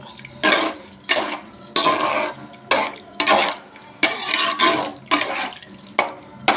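A spoon stirs sambar powder and turmeric in a pot for radish sambar, making about eight rhythmic scraping, clattering strokes close by, each a short burst separated by brief pauses, with no one talking.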